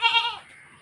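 A tethered goat lets out one short, close, wavering bleat that fades quickly, leaving only faint background noise behind.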